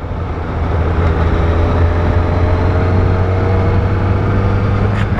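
A Honda CB1000RR Fireblade superbike engine drones steadily while riding, a loud continuous low hum with wind rush and no speech.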